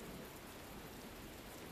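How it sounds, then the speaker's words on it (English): Steady rain falls in the Tales of Berseria video game, a soft, even hiss of rain on surfaces that stays constant and fairly quiet throughout with no voices. "It's raining. Shouldn't you find shelter?"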